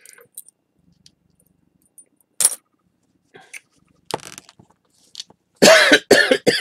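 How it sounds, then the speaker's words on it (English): A man with a cold coughs a few times at a table while handling toy parts of a 12-inch G.I. Joe figure, the coughs sharp and close, separated by quiet stretches and small clicks of handled parts. "Pardon the cough, folks."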